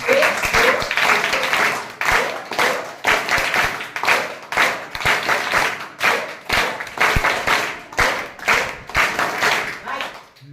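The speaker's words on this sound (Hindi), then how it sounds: "इधर से बच्चे तालियां बजा रहे थे चट चट चटाचट" An audience including children claps in a rhythmic, patterned sequence of sharp hand claps in repeated bursts, loud and close, with a voice speaking over the clapping.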